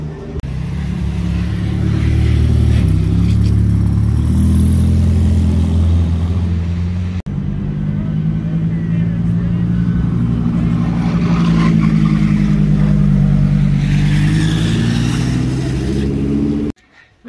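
A white Lamborghini Performante sports car revs its engine loudly and up close in Monaco, a sustained deep roar that rises and falls over several seconds before cutting off abruptly.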